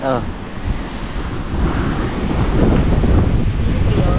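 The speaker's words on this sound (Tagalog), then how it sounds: "Lakas ng hangin, sarap nun." Strong wind roars across the microphone while surf washes in steadily nearby, growing louder and fuller toward the end.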